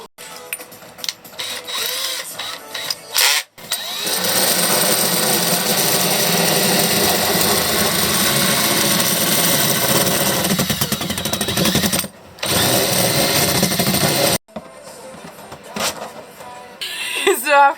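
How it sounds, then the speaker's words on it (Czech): A power tool grinds the edges of a hole cut in the underside of an Iveco Daily van for an independent heater during a camper conversion. The loud, continuous whine lasts several seconds and is framed by brief talking. "Tak brousit."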